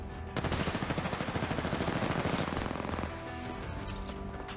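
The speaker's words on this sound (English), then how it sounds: "Suddenly, gunfire rages in an outpost west of the main building." In the Apex Legends video game, automatic weapons fire in dense, rapid bursts of gunfire for about three seconds, then fade to scattered, quieter shots and ringing effects. The sound is fairly faint overall, with no voices.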